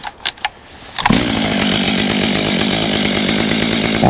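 A Stihl or Husqvarna chainsaw engine starts after a few faint clicks and then idles loudly and steadily, a dense buzzing drone that holds near and constant for several seconds with no voices.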